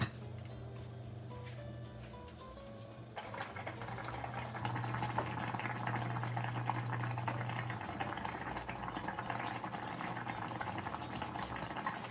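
Saluyot leaves for an Ilokano-style paksiw boil in a covered pot, giving a steady, dense bubbling hiss that thickens and grows louder after a few seconds and continues without a break.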